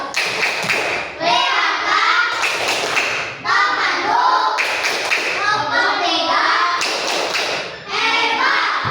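Pupils in a classroom clap together in a rhythmic patterned applause, repeated loud bursts of many hands broken by short gaps, with children's voices chanting along between rounds.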